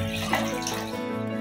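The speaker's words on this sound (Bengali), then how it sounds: "এগুলোকে এখন একটু ধুবো।" Cut jackfruit pieces are washed under running water, a steady splashing tap stream pouring close by for a short stretch with no talk.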